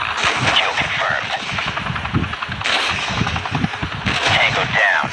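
Game gunfire in Modern Combat 3 comes as dense, loud automatic bursts in three long stretches, mixed with rotor-like drone and radio-style voice chatter.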